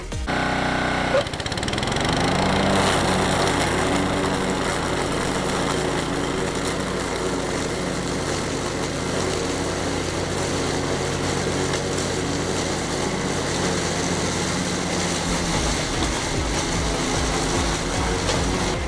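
A Honda UM 535 lawn mower starts up, then runs under heavy load cutting through a thick layer of leaves on grass, a loud, close, steady engine roar that stays constant for over ten seconds before easing off near the end.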